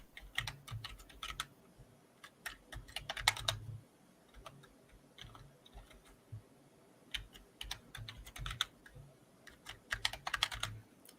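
Someone types a password on a computer keyboard, with quick bursts of close, clicky keystrokes separated by short pauses and no talking.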